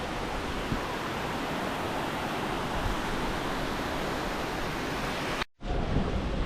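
Mountain streams gush down a hillside near Marleshwar during the monsoon rain, making a dense, even roar of rushing water that fills the whole clip and cuts out briefly near the end.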